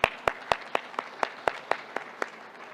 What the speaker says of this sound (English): let me give her applause